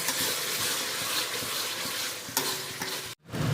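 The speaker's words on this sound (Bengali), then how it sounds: "মাছের মশলা কষাচ্ছি" Fish masala spices fry and get stirred in a pan, a close, steady sizzle with scraping stir noises that cuts out briefly near the end before resuming.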